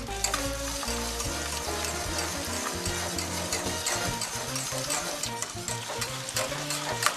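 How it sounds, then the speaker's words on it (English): Cheese sauce thickened with flour, stirred steadily in a hot sizzling pan, with constant frying crackle and repeated scraping of the spoon against the pan, close and continuous with no talking. "And just keep stirring and stirring and stirring and stirring and stirring and stirring. It'll lump up on you till the cheese is all melted."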